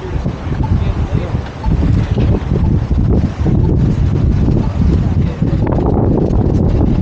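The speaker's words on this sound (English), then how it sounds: "Oh, there's that wind." Strong gusty wind buffets a microphone on a San Francisco street, a loud continuous low rumble with brief lulls, while a person talks over it.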